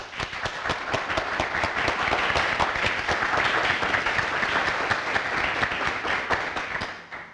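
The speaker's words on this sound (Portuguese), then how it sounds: "Palmas para ele." A concert audience gives a veteran Brazilian musician loud, sustained applause, many hands clapping in a dense, steady wash with crisp individual claps standing out, holding for about seven seconds before easing off at the end.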